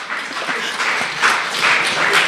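Congregation applauding at a church service during a sermon, a dense steady patter of many hands clapping close by, swelling slightly toward the end.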